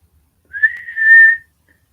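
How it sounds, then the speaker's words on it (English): A person gives a single clear whistle to call a dog, a short rising note that holds steady for about a second, loud and close in an otherwise quiet room. "He doesn't really come if I whistle."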